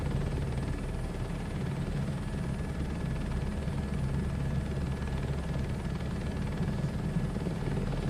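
Helicopter flying in Microsoft Flight Simulator 2024, set on a crop dusting flight, with a steady, loud rotor and engine drone that holds unbroken throughout and has no talk over it.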